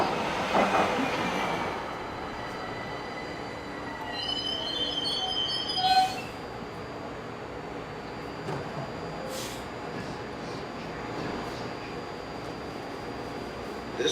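A Los Angeles Metro train bound for Sierra Madre Villa Station rumbles along with a steady roar, a brief wheel squeal and chime-like tones early on, then continuous track noise.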